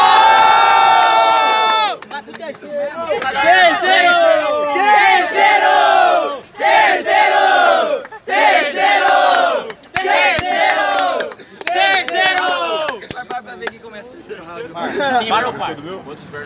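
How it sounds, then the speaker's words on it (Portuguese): Crowd at a rap battle in Foz do Iguaçu, Brazil, loudly cheering and shouting in sustained bursts with brief dips, a dense, near, roaring mass of voices throughout. "família, muito barulho pra essa batalha, certo?"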